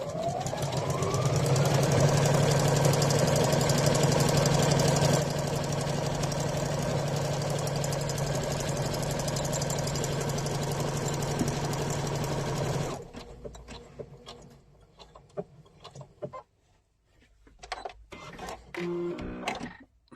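Sewing machine stitching an automatic buttonhole into fabric, a loud rapid mechanical whir with a steady stitching rhythm for about thirteen seconds, then stopping, followed by quieter clicks and handling noises.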